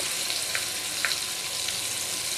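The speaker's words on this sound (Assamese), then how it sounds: "তেলখিনি গৰম হৈছে আৰু এতিয়া মই বেঙেনাকেইটা এটা এটাকৈ দি দিছোঁ" Small brinjals fry in a little hot oil in a pan on a gas stove, a steady dense sizzle with faint crackling pops throughout and no talk.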